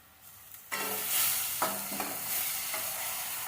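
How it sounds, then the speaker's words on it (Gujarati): Tomato puree hits sautéed onions in a hot pan for a Kathiyawadi meal, bursting into a sudden loud sizzle after a quiet start, with brief stirring scrapes and a steady hiss continuing to the end. "તો હવે આપણે 3 ટામેટાની પ્યુરી એની અંદર એડ કરી દઈએ."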